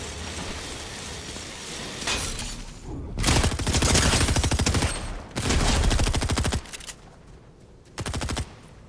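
Rapid automatic gunfire rattles in Fortnite in several loud, close bursts, broken by short pauses, with a final burst near the end.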